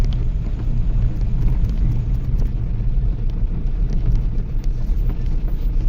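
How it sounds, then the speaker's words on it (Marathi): A pickup vehicle is driven along a village road to be parked, giving a steady, close engine and road rumble mixed with wind buffeting on the microphone throughout, with no talk. "चला आपली गाडी लावूयात पुढे"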